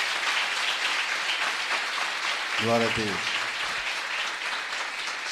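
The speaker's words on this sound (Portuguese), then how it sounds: "E dê um aplauso ao Senhor Jesus nesse momento." A church congregation claps for Jesus during a sermon, dense continuous applause throughout, with a voice briefly calling out over it partway through.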